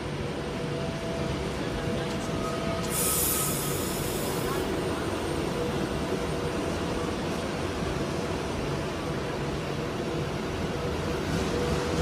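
A Class 390 electric train, unit 390009, pulls into platform 16 at London Euston as a steady, low rumble under station ambience. The rolling noise stays constant throughout, with faint squeals and a brief hiss partway through.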